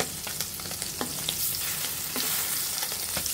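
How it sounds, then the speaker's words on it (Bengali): Large local puti fish fry lightly in hot oil in a pan, giving a steady close crackling sizzle dotted with sharp spitting pops and small scrapes. "এভাবে মাছগুলো খুব হালকা পরিমাণের মতো ভেজে নিতে হবে"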